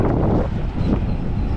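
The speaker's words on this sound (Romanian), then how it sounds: "Și avem și puțin vânt din spate." Steady, loud wind rush buffets the microphone throughout a fast road-bike ride on smooth cycling paths, a constant low roar with no voices.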